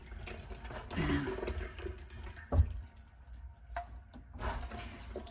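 A kitchen sink tap runs at low water pressure, giving a thin, uneven trickle with a few clunks and splashes, close and fairly quiet.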